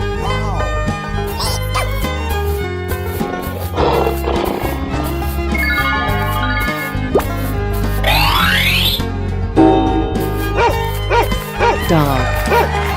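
Cartoonish dog barks mixed into a bouncy children's music track, with other animal sound effects and springy boings around them, loud and upfront.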